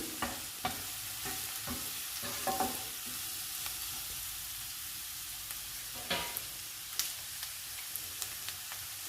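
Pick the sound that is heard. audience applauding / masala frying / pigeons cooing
masala frying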